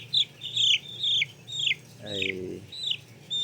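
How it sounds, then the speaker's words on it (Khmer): Seven-day-old Ross 308 broiler chicks, a fast-growing meat breed, chirp in quick repeated high peeps, with someone talking briefly in the middle. "នេះបងប្អូនឃើញកូនមាន់នេះកូនមាន់ហើយពូជរ៉ូស 308បាទគេហៅថាមាន់សាច់"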